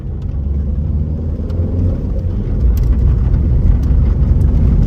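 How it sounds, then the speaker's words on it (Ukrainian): A 2006 Volkswagen Passat B6 with a 2.0 diesel engine pulls hard in second gear from around 40 km/h, a low, steady engine roar and road rumble building gradually in loudness over several seconds. "Зараз ми їдемо 40 км на другій передачі, 2000 обертів. Даємо тапок в пол."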